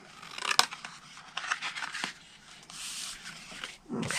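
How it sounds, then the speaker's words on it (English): Scissors snip through cardstock for a stamped window box project, with several crisp cuts and paper rustling at close range, a few sharp snips standing out, no talk. "so we'll cut the side of that one straight, and then we're going to wedge this last one"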